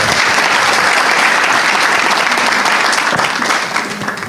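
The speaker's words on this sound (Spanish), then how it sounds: "Un aplauso." Church audience welcomes a guest with loud, full applause, dense continuous clapping for several seconds that thins slightly toward the end.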